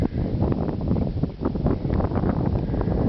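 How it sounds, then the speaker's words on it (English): Heavy wind buffeting the microphone, a constant low rumbling roar with gusty surges throughout. "Sorry about the wind"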